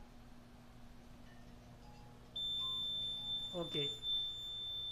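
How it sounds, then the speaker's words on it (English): RTK P725 annunciator alarm sounding a steady, continuous high electronic beep that starts abruptly midway, with someone speaking briefly over it. "now alarm also beeps"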